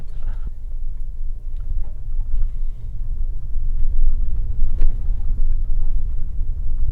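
A 2025 Ford Bronco Sport Badlands on Falken Wildpeak AT4W tires climbs a steep off-road breakover, its engine a steady, loud low rumble under load, swelling slightly midway as the vehicle pushes up the grade.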